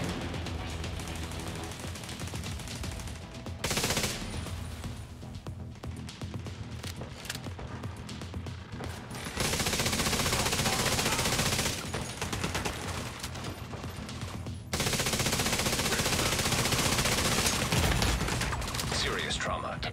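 Video game artillery turret gunfire sounds as rapid, clattering fusillades, with loud sustained bursts in the second half over a busy background of game effects.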